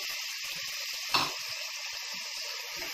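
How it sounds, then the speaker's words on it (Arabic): Soaked chickpeas sauté in a pan with onion and garlic, giving a faint, steady frying hiss. One brief clatter comes partway through. "عشان اشوحه مع البصل والثوم"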